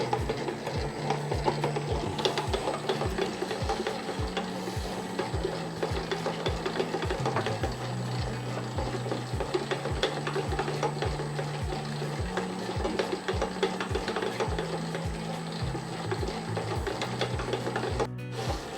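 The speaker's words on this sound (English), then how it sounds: "So I've worked out what the clunking was that I hadn't sealed the bowl into the slot properly." A Famag IM5S spiral dough mixer running continuously with a steady mechanical whir and a repeating rhythmic clunk from the bowl seated loosely in its slot, close by throughout.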